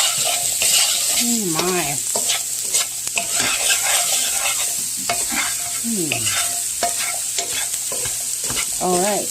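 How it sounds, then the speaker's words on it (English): A spatula scrapes and stirs pepper into sausage gravy in a pan, repeated rhythmic scraping over a steady sizzle, with voices talking and a brief exclamation in between. "I'm just going to stir that in real quick."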